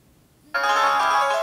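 A Datacet D7001 telephone rings with an incoming call, a bright electronic ringtone starting abruptly after a short silence and continuing loud and steady to the end.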